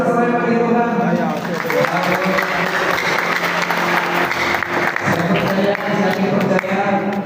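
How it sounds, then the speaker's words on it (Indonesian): A church congregation at an evening worship service breaks into loud continuous applause and cheering, a dense steady wash of clapping close by, with a voice speaking over it. "Berikan sorak-sorai bagi Tuhan"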